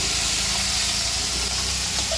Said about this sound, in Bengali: মাছ ভাজা বসিয়েছি